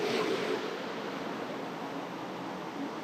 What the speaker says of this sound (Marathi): लाटा बघू शकता किती जोर जोरात येऊन आदळत आहे